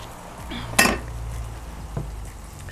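Knife cutting pork liver into pieces on a board: one sharp, close knock, a fainter tap later, and quiet between them.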